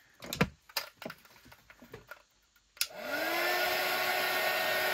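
A hair dryer switches on after a few soft taps and handling noises and then blows in a steady, loud, continuous rush while drying a soaked crafted piece.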